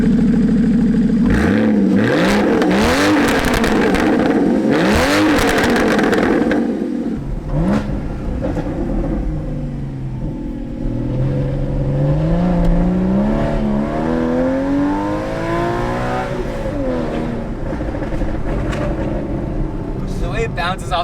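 A Porsche Cayman engine revs and climbs through gears while driving along a mountain road, the sound echoing off rock walls; loud and continuous with rising and falling pitch sweeps, with people talking over it.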